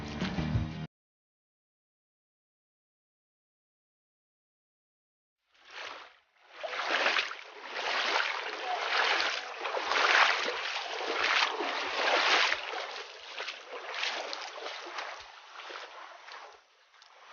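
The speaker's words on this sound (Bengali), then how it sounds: "মনে হচ্ছে আমরা ঝর্ণার অনেক কাছাকাছি চলে এসেছি, শব্দ শোনা যাচ্ছে ঝর্ণার।" Rushing water from the Hajachhara waterfall and its stream along a jungle trekking path: a steady, loud roar that starts suddenly after a stretch of silence and continues without a break.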